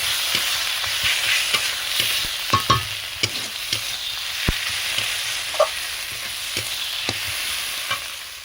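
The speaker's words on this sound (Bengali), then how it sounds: "অল্প করে জল দিয়ে দেবো ভালো করে মশলাটা আমি কষিয়ে নেব" Spiced chicken liver and gizzard stir-fry in a pan with a constant close sizzle, punctuated by regular sharp clinks and scrapes of the spatula against the metal.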